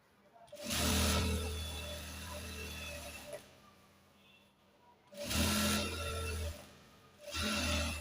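Sewing machine stitching the side seam of a boy's pajama, sounding in short separate bursts of near motor whir with quieter gaps between them.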